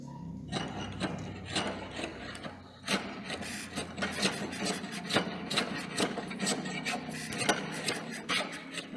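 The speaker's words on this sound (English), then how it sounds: "Finishing of this side or planing of this side is done again with the help of metal jack planer." A metal jack plane shaves along a wooden bar in a carpentry shop, giving repeated rasping strokes in a steady rhythm, close and moderately loud, with no talking.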